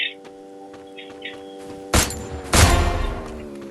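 Gunfire in a shooting video game: two sharp loud blasts about half a second apart, the second trailing into a short rumble, over faint electronic tones and chirps.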